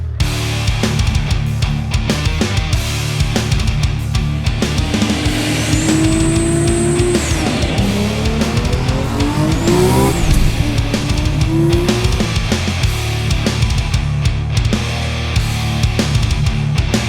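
A 1,400-horsepower turbocharged Nissan R32 GTR is driven hard, with a loud, continuous engine roar and rising and falling revs, plus a brief tire squeal midway. No voices are heard.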